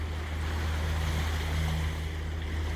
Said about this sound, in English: we've just got one engine on. Just purring away at 6 knots.